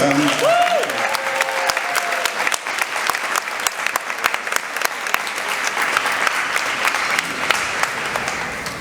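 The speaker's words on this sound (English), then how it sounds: "can everyone give him a warm round of applause?" Warm applause from a crowd at a vegan camp-out gathering: steady, dense clapping from many hands, fairly loud and near, with a brief voice at the start and scattered sharper claps throughout nearly nine seconds.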